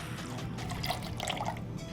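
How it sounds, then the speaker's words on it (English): Forty millilitres of lychee juice trickles and drips into a cocktail jigger or shaker, a soft close liquid pour lasting a couple of seconds without speech. "Next step is I'm going to add my lychee juice, and I'm going to add 40 milliliters of it."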